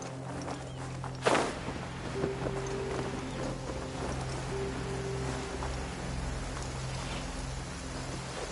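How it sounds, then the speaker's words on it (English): Steady downpour in Genshin Impact near the Blackcliff Forge, a continuous broadband hiss of rain with a low hum beneath, one louder splash-like hit early on, and faint scattered footstep-like taps. "Taking a stroll in the middle of a downpour certainly rouses the spirit."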